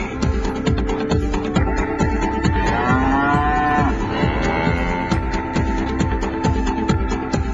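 A cow moos in a long drawn-out call. A steady clattering rhythmic pulse runs throughout and is loud and close.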